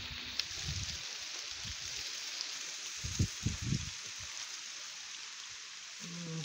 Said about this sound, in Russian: А тут дождик.